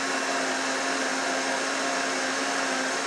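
A countertop blender grinds ingredients for a mango lassi or frothy hot chocolate, a loud constant high-pitched motor whine with a steady hum, close and uninterrupted, no voices.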